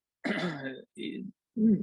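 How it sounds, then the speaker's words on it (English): Three short, close coughs or throat-clearing bursts separated by brief silences, the first longest and harshest. "Sorry, got a little cough."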